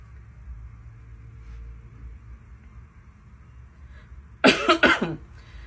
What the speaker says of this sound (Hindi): थोड़ी सर्दी खांसी हो रखी है भाई को।